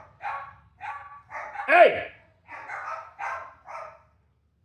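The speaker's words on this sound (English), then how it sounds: "the dogs start fucking barking" Several dogs bark at a household while someone shouts at them, with about seven loud separate barks and yelps rising and falling in quick bursts over roughly four seconds.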